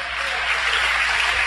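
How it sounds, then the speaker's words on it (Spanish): Applause fills a church congregation, a steady wash of clapping hands that holds at an even, fairly loud level for its whole short length, with no voice rising above it. "digno esta noche de toda gloria, de todos los aplausos,"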